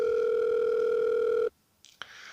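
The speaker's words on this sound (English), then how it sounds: "right as it's about to switch to another intercept message, the line finally rings." A telephone line rings through the earpiece as a steady electronic tone for about a second and a half, then cuts off, leaving faint clicks and line noise.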